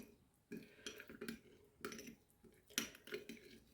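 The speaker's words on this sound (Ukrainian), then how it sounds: "Гарненько все розмішаю" A spoon stirs a mackerel marinade of soy sauce in a bowl, giving soft, quiet scraping and clinking strokes in several separate bursts, close and alone.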